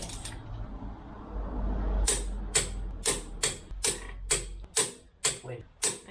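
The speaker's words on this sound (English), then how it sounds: "so we can torque my beautiful wheel spacers to 140 Newton meters" A torque wrench tightening car wheel spacers to 140 newton meters, a series of sharp metallic clicks at a roughly regular rhythm, close and distinct over a low background hum.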